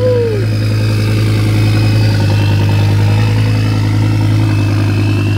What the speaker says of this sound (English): Just listen to those turbos, man. That sounds freaking mental.